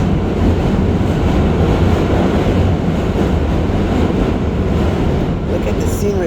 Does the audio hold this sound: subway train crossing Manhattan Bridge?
yes